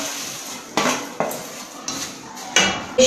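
Crispy fried gram-flour pearls for motichoor ladoo are stirred in a metal pan, five or six sharp scraping clinks spaced about half a second apart, close and clear with no talk.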